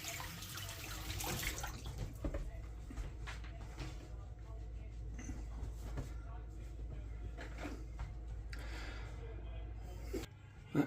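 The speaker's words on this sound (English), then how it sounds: "Wash my hands again," Tap water runs steadily from a faucet as hands are washed at a kitchen sink while making orange marmalade, a continuous broad rushing stream that holds throughout before cutting off near the end.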